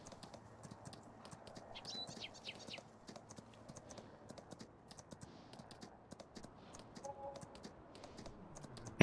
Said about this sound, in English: Let me just switch to the horse and just bring the horse here.